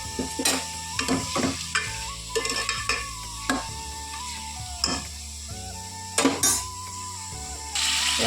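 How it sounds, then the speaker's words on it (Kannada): Ginger-garlic paste, salt, turmeric and onion fry in a pan, with steady sizzling under close, repeated scraping and clinking of a spoon stirring against the metal, and no talk. "ಉಪ್ಪು ಅರಿಶಿನ ಶುಂಠಿ ಬೆಳ್ಳುಳ್ಳಿ ಪೇಸ್ಟ್ ಹಾಕ್ಕೊಂಡ್ಬಿಟ್ಟು ಚೆನ್ನಾಗಿ ಫ್ರೈ ಮಾಡ್ಕೊತೀನಿ"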